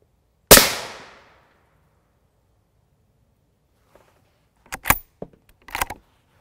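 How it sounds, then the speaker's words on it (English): A rifle fires an M80A1 round at a silicon carbide NIJ Level IV armor plate: one sharp, loud report with a short decaying echo, then after a quiet stretch a few fainter clanks and impacts. "This shot will probably be in the middle."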